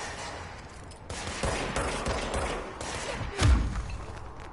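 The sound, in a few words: enemies shooting in the video game Control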